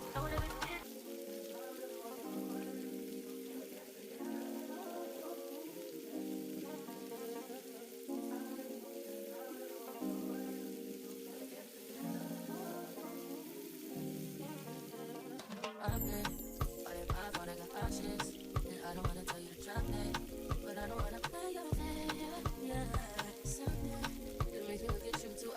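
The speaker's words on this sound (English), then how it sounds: "I'm going to add my soy sauce and just stir it everything together and allow my fried rice to develop the color" Vegetable fried rice with soy sauce sizzles steadily in a hot pan, with a broad hiss throughout; after a while, rapid scraping and stirring clatter comes in, close and loud, with no talking.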